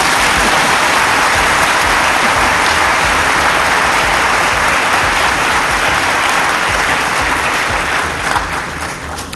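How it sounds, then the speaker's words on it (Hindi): A large audience applauds steadily at a national children's awards ceremony, with dense, loud, sustained clapping that tapers slightly at the end. "थोड़ा ताली तो बजा"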